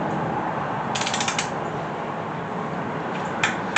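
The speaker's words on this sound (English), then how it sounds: "Alright, now we torque it to the 45 degrees, foot-pounds." A torque wrench ratchets while tightening connecting rod bolts on a Chevy 350 small-block engine, with short bursts of quick clicks against a steady background hum, repeating a few times.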